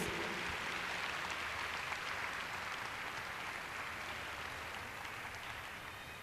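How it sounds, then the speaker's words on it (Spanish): A church congregation applauds for Jesus at a Spanish-language sermon, a dense, steady wash of clapping filling the hall and holding level throughout, slightly distant and reverberant, with no voices standing out. "dale un aplauso fuerte a Jesús"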